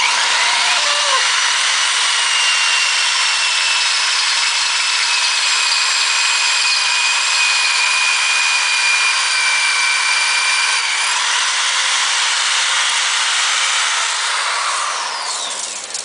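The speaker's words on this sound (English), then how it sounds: "we have the bottom holes drilled" Power drill boring bolt holes through a GBody 10/12-bolt rear end housing resting on jack stands, a loud, steady high-pitched whine running nearly unbroken for about sixteen seconds before easing off at the end.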